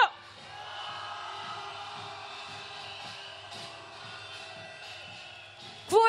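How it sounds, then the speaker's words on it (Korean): A crowd at a rainy candlelight rally march in Korea sends up a sustained, distant roar of shouting and cheering, a steady wash of voices with faint rhythmic thumps underneath. "우리 동의하시는 시민 여러분 함성 질러주십시오."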